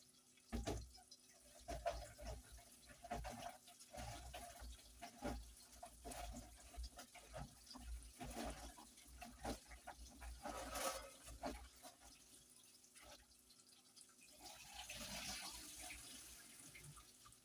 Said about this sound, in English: I like washing mine by rubbing like this